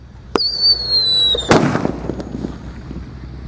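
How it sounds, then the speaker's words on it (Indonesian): A pearl thunder firecracker buried in the ground shrieks with a high, sliding whistle for about a second, then bursts in one sharp, loud bang that trails off into faint crackling and outdoor hiss. "Dalamnya itu mercon pearl thunder seperti ini ya."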